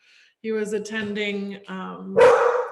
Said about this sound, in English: I'm so sorry for my dog.